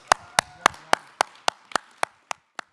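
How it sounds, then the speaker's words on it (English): Clapping for panelists at the Stand Tall for the Tongass event: about ten crisp, evenly spaced claps from a single pair of hands, close and loud, slowing slightly and fading toward the end. "A big round of applause for our panelists."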